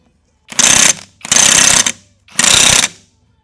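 Socket wrench loosening a greased bolt on a truck, three loud close bursts of rapid ratcheting clicks, each about half a second long, separated by short silent gaps.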